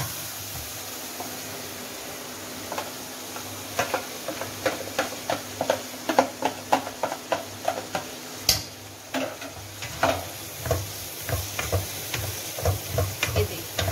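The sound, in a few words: marinated liver (kaleji) frying and stirred in tomato masala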